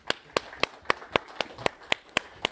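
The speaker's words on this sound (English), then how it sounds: "Small round of applause for Simon" Audience applause for a volunteer named Simon at a tech conference talk, heard as about ten evenly spaced, crisp claps, close and fairly loud, likely one or a few people clapping in a steady rhythm.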